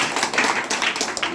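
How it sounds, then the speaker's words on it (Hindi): At a school World Environment Day celebration, an audience claps in a brief, dense burst of close, crisp handclaps with no talking. "एक जोरदार तालियां जो है इन ममता फाउंडेशन के लिए।"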